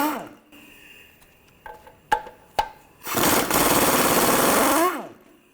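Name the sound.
socket wrench removing nuts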